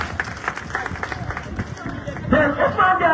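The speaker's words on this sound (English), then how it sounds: "Can we give them a round of applause?" Audience at a senior secondary school graduation ceremony in Kerewan clapping amid a busy hubbub of crowd voices, with the clapping and chatter growing louder toward the end.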